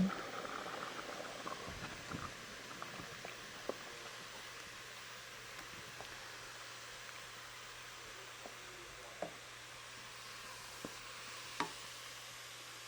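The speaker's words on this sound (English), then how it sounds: "I'm just going to boil some water, or warm some water up" Water heats in a pot while cooking a monkfish curry, a faint steady bubbling hiss with occasional small pops and ticks scattered across a quiet kitchen, and no one speaking.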